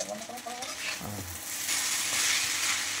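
Chowmein frying in a wok and being stirred: a steady close sizzle with scraping stirring strokes, getting louder and hissier toward the end.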